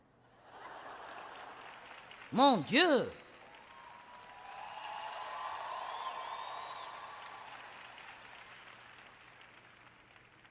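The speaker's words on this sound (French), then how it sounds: "Je suis contente pour cet applaudissement de Mickey Mouse." An audience applauds in a large hall, broad steady clapping swelling and fading over several seconds after a brief exclaimed voice.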